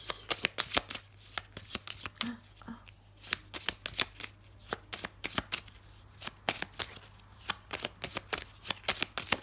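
Tarot cards shuffled by hand close up, a long run of quick crisp riffling flicks in irregular bursts, with a faint low hum underneath.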